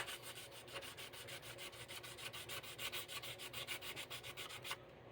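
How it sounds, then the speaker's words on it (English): An automotive piece is sanded by hand with 3M sandpaper using light, even strokes, giving a rhythmic scratchy rubbing that repeats steadily about five times a second, close and quiet, before stopping abruptly. "No pressure, little to no pressure, just keeping it on the piece as I sand."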